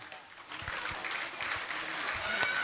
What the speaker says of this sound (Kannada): ಹಂಗಾಗಿ ಕೇವಲ ಚಪ್ಪಾಳೆ ಅಷ್ಟೇ ಹೊಡೀರಿ, ಸ್ವಲ್ಪ ಜೋರಾಗಿ ಹೊಡೀರಿ ಅಷ್ಟೇ.